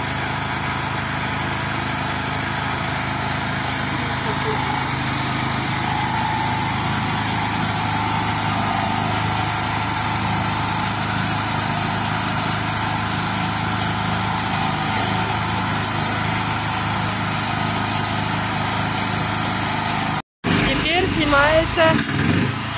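A machine tool runs steadily in a workshop, a loud continuous mechanical drone with a constant hum that holds unchanged for about twenty seconds before a brief cut and a slightly altered tone.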